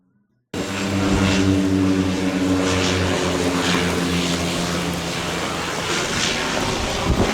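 A propeller airplane passes overhead toward an airport, heard from a sailboat at sea as a loud, steady droning hum with a wind rush that cuts in abruptly and holds without a break.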